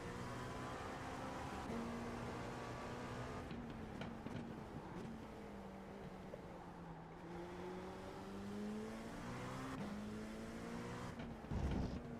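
Racing car engines from a racing video game on the Algarve circuit, a steady high-revving drone with shifting pitch as cars accelerate and change gear, loud and continuous throughout with no talk.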